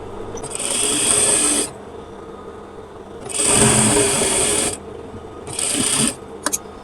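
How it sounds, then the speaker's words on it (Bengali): A sewing machine running a long basting stitch along the side slit of a kameez, heard as three separate close whirring bursts with short quiet pauses between them, ending in a couple of small clicks. "এই দাগ বরাবর আগে একটা বন সেলাই দিয়ে নিতে হবে"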